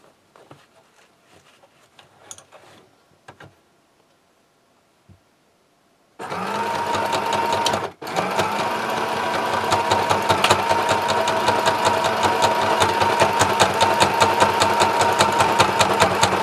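A sewing machine labors through tote bag fabric, starting abruptly after a few seconds of quiet rustling and running as a loud, steady mechanical drone with one brief pause.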